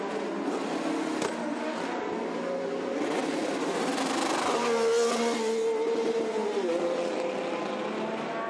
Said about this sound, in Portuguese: Esse barulho que você ouviu aí é carro fazendo pit.